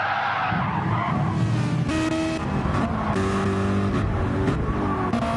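Race car engine in a racing video game, revving and sliding as the car gets loose in the grass and spins around, loud and continuous with shifting engine pitch and skid noise, no talk.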